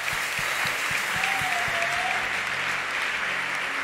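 Sustained applause from a men's congregation in a church, steady dense clapping throughout with a faint voice or musical tone briefly rising above it.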